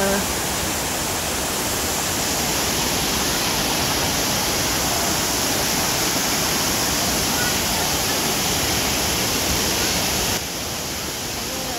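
Vera Falls in Malinao, Albay, pours as a loud, continuous, dense roar of falling water, close and unbroken throughout.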